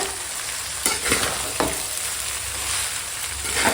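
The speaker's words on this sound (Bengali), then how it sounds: "এই ভাতটা এই সবজির উপর দিয়ে দেবো দিয়ে এবার হালকা হাতে মিশিয়ে নেবো" Cooked rice being gently mixed into vegetables frying in a pan, a constant close sizzle with a few scraping stirs of the spatula.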